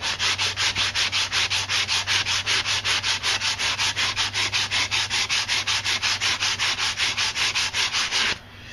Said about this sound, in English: Now I'm smoothing out from the fine rasp to the sandpaper.